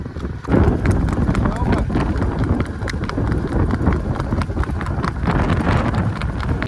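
Hooves of a Kathiyawadi mare clip-clop steadily in a quick, continuous rhythm outdoors, close and loud, with wind buffeting the microphone and someone talking over it.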